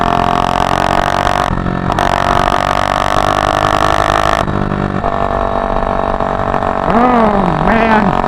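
A billet Predator 224 engine on a motorized bicycle revving high, a loud buzzing drone that cuts out briefly twice before settling, with a voice briefly exclaiming near the end.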